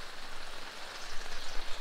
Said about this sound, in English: I don't know how long the rain's supposed to last.